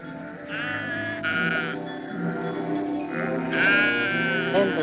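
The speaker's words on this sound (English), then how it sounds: "and the sheep cried again" Sheep bleat repeatedly in wavering, drawn-out cries, several calls overlapping at moderate distance over a quiet background, suggesting a hungry flock near a drying water hole.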